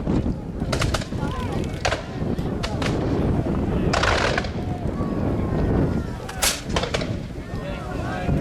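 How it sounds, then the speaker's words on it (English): Heavy booming cannon fire from a War of 1812 battle re-enactment, cannons firing canister shot with sharp reports and crackling, several shots spread irregularly over a constant rumbling background. "those American cannons that are pouring canister fire across the front of the British line"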